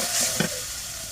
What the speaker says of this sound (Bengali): পেঁয়াজগুলো ভাজা হয়ে গেছে, এখন একটু পানি দিয়ে দেবো।